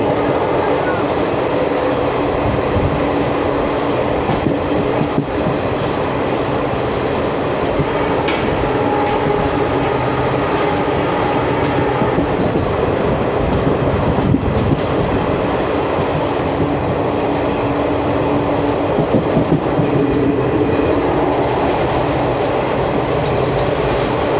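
The 12467 Leelan Express, hauled by a diesel locomotive from Bikaner to Jaipur, rumbles loudly and steadily along the rails, with constant wheel clatter and car noise heard from inside the train and no talking.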